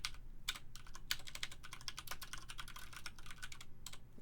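Rapid typing on a computer keyboard, a dense run of close, crisp key clicks with brief pauses, no voices present.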